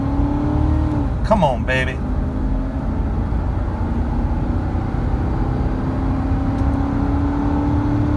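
A 2004 Ford Expedition Eddie Bauer SUV accelerates hard at full throttle, a steady loud engine roar from inside the cabin with a gear shift partway through, while someone speaks briefly over it.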